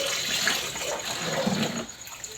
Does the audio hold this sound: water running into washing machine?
yes